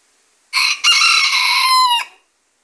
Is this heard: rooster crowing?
yes